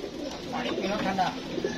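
Low, soft cooing of a pair-kept pigeon for sale close by, brief and throaty, with a voice talking over it.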